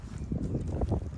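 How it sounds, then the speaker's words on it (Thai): Strong, gusty wind rumbles against the microphone during kite flying outdoors, loud and close, in uneven buffeting surges. "เกิดลมแรงครับ"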